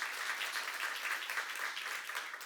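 Steady applause from a church congregation at a seminar, dense and continuous clapping filling the room for a couple of seconds, fading slightly at the end.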